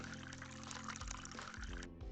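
Orange juice pours into a glass in a cafe setting, a faint, steady liquid stream with a rising fill tone over a backdrop of soft music, ending abruptly.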